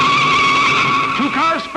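Race cars at the 1957 Indy 500 screech in a loud, sustained tire squeal as two cars spin, the skid wavering in pitch and fading slightly toward the end.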